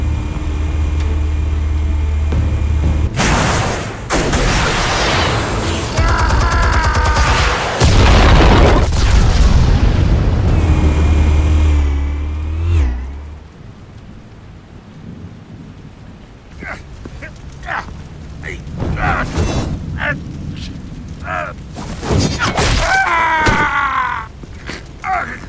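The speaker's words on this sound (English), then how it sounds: "Explosives armed. Fire when ready." Explosives detonating in Batman: The Telltale Series, heavy booming blasts with rumbling debris in the first half, then quieter aftermath with scattered crackles and a few sharp bursts, voices briefly heard.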